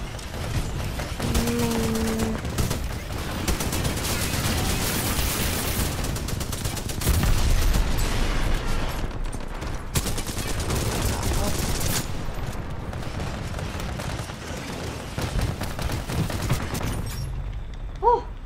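Sustained rapid automatic fire from a Spitfire light machine gun in the game Titanfall 2, dense and loud throughout with booms mixed in and a voice talking over parts of it.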